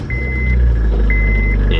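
A 2008 Honda Fit engine idles steadily with a low, constant hum, joined by a repeating high electronic beep tone.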